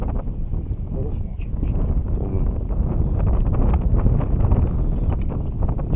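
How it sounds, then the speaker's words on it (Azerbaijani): Steady wind roars and buffets the microphone throughout, a constant low rumble with faint voices under it, outdoors on a pike-fishing trip in Imishli, Azerbaijan. "Külək qalxdı biraz."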